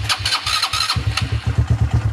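A Kayo motorcycle engine being started: an uneven starter crank gives way to a loud, close, pulsing firing rhythm as the engine catches and runs.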